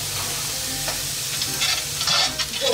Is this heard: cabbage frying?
yes